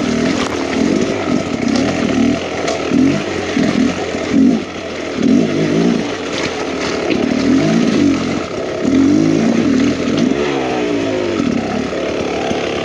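Enduro dirt bike engine revving and bogging on a rough, rocky trail, a loud close two-stroke-like snarl with constant throttle surges and clutch work.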